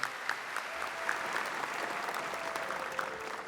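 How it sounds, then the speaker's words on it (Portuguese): A Catholic Mass congregation applauds the word of God after the Gospel reading, a steady, moderately distant clapping that fills the church evenly throughout, with faint murmurs under it. "Vamos aplaudir a palavra de Deus."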